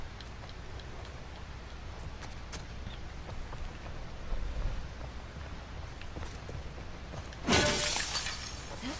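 Glass shatters in The Last of Us Part II, a sudden bright crash near the end after a stretch of quiet rain-like ambient noise and a faint thud.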